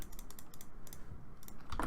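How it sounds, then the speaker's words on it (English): A noisy computer mouse clicks rapidly in short, close bursts during a Minecraft session, with a quick cluster near the end. "Noisy mouse clicking."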